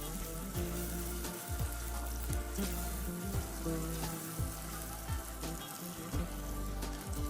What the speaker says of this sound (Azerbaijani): Tərəvəzləri yaxşıca qızardırıq orta alovda.